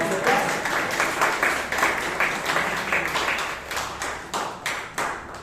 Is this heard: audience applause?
yes